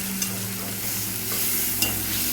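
Ground spices are stirred and sautéed with softened onion, garlic and ginger in a pan for black chana masala, giving a steady close sizzle with a couple of sharp spatula scrapes and no talking.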